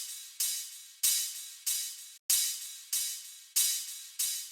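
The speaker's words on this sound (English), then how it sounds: "So what I did is added this hat loop." A hi-hat loop in a beat plays alone, with bright, crisp, sizzling hits repeating in a steady rhythm, each hit decaying before the next and one brief gap midway.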